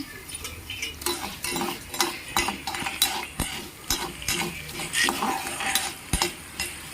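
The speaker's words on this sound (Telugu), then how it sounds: "చూసారు కదా, ఇలా ఫ్రై చేసుకుంటూ ఉండాలి." Curry leaves fry in a pan while a utensil stirs them, scraping and clinking in a steady, uneven rhythm over a soft sizzle, close up with no voices.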